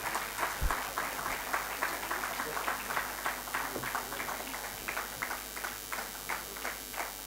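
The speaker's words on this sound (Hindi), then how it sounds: "Please तालियां बजाते रहिए यार" Steady audience applause at a students' valedictory function, a continuous patter of many hands clapping at moderate distance with a gently pulsing rhythm and no talk over it.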